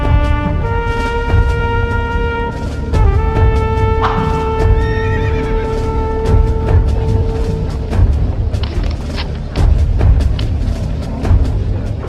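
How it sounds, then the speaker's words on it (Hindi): A horse pulling a carriage neighs in a long, loud whinny with falling pitch, then hooves clip-clop in a steady rhythm over a constant rumbling background, with no talking. "ये वही घोड़ा गाड़ी है जिसे हम सुबह ट्रैक कर रहे थे"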